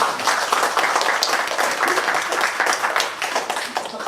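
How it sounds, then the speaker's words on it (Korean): A church congregation claps during a Sunday worship service, a dense, steady patter of many hands close by that carries on for several seconds without speech. "박수."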